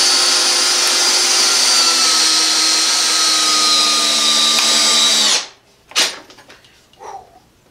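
A Craftsman 20V brushless hammer drill on its strongest drill setting drives a long 8-inch timber screw in one loud, steady high-pitched whine for about five seconds, then stops abruptly, followed by a few clunks.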